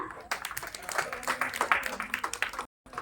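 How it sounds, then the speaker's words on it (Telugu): An audience at a church VBS celebration claps for children with a quick, moderately loud run of hand claps amid voices, then cuts off abruptly near the end. "మరి వీళ్ళని ముందుకు ఆహ్వానించుదాం, క్లాప్స్ చేద్దాం."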